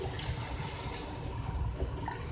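Spiced yakhni stock is poured into a pot of rice for aloo yakhni pulao. It makes a continuous, close, gushing liquid sound with no talking.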